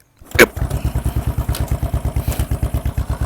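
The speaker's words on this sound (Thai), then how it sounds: "สตาร์ทได้ 2 ระบบนะครับ สตาร์ทมือสตาร์ทเท้าคลิปนี้ขออนุญาตสตาร์ทเท้านะครับ" A cold Royal Enfield GT 535 Cafe Racer motorcycle is kick-started: one sharp kick, then the engine catches and settles into a loud, steady, evenly spaced thumping idle close by, with no talking.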